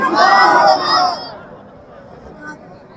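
A large crowd at a religious gathering in Dhaka shouts the takbir chant loudly in unison, a roaring call lasting just over a second. It then drops away into quiet room murmur.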